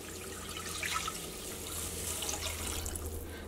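Water pours in a steady, soft stream into a pot of Chembu Mulaku curry being cooked, a faint, continuous splashing heard close by.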